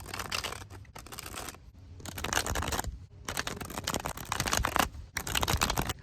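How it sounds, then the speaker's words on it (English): A deck of tarot cards is shuffled by hand in several quick riffling bursts separated by short pauses, soft and close, with no voices. "Let's shuffle your deck."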